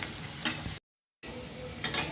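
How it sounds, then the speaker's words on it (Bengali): Chopped onions with garlic and chilies fry in white oil in a wok while being stirred. A close, steady sizzling hiss carries light stirring scrapes and breaks off briefly into silence midway. "পেঁয়াজটা একটু লাল লাল করে ভেজে নিব"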